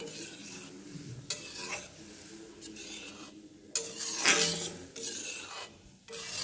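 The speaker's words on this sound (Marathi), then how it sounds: "आता हे दूध चांगलं शिजू द्यायचं बरं।" Milk and grated carrots for carrot halwa simmer in a pan, with a soft bubbling sizzle and intermittent scraping strokes of a stirring spoon, fairly quiet and close.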